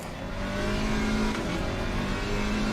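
A BMW GT race car engine in Assetto Corsa Competizione, droning at steady high revs under load, close and continuous with a strong tonal whine and no voice over it.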